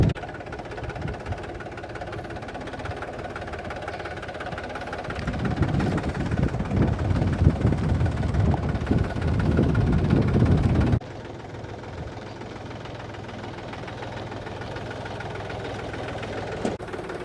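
A tractor fitted with oversized monster tyres and a single brake runs its engine in a steady low rumble. It grows louder and rougher in the middle as it revs or drives closer, then drops back to a quieter idle, with no talking.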